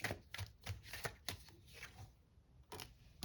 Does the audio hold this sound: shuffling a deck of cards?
yes